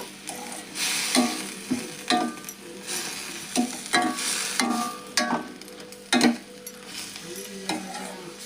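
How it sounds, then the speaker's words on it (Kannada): Vegetable curry being stirred and mixed in a hot pan, close scraping strokes and clacks of a spoon over a continuous sizzle, no voices. "ಇದನ್ನು ಎಲ್ಲ ಮಿಕ್ಸ್ ಮಾಡೋಣ್ರಿ"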